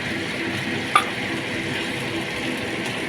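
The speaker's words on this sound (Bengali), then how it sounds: "যেহেতু এটা তেলের ওপর পুরো রান্না হচ্ছে," Pointed gourd cooking in mustard oil with spices and a little water, a steady close sizzle and bubbling with a single sharp clink of a utensil, no talk.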